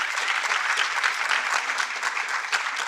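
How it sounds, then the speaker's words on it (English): A gathered group at a community engagement event applauds, many hands clapping in a dense, even burst that holds steady and loud for nearly three seconds, with no talking over it. "You can give yourselves a round of applause."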